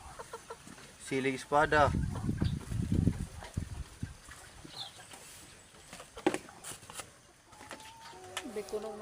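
Chickens cluck and a rooster-like call rises in a rural yard, the fowl sounds close and intermittent while a person talks throughout.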